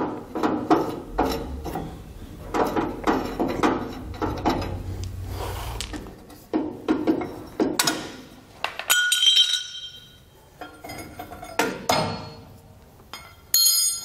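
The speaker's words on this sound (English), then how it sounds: "we're getting our hardware off of these U-bolts" Hardware comes off trailer axle U-bolts in bursts of ratcheting and clanking metal, close and loud, with the sharp clinks of loose nuts and plates between pauses and no talk.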